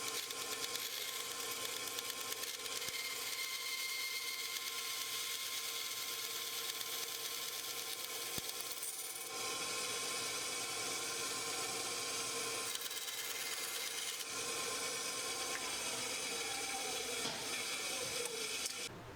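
A small bandsaw cuts thin cocobolo wood, giving a quiet, continuous high-pitched rasping whine with brief pauses between cuts.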